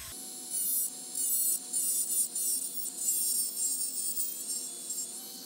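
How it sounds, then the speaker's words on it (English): A Dremel rotary tool cuts into the plastic battery compartment of a Tamiya Mini 4WD, giving a steady high-pitched grinding whine in repeated bursts, up close and alone. "I gonna cut this one open a little bit by using Dremel"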